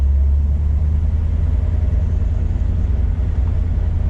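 A 1970 Dodge Challenger with a 440 Six Pack engine rumbles steadily down the road, its deep exhaust drone loud and continuous from start to finish with no voices over it.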